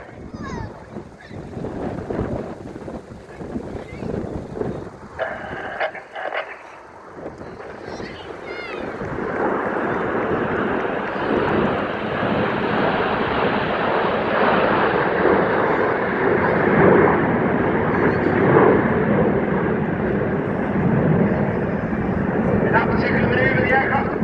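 Red Arrows jets in an air display build from distant rumble into a sustained, loud roar overhead that lasts through the second half, with a commentator talking throughout.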